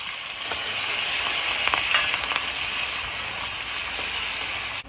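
Garden thyme, garlic and scallion dropped into hot oil give a steady, bright sizzle. It holds evenly for several seconds with small crackles and pops, close and alone, with no voices.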